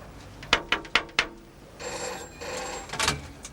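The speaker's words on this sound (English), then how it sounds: "Phone call, madam." An old-fashioned telephone bell rings in an indoor scene from a period drama, four quick sharp rings followed by a quieter stretch with background noise and faint movement.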